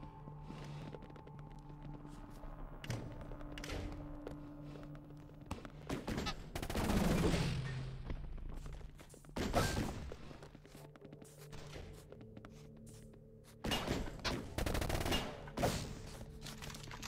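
Bursts of gunfire in a multiplayer shooter game, scattered single shots and rapid volleys separated by quieter gaps, with footsteps and thuds between them and little talk.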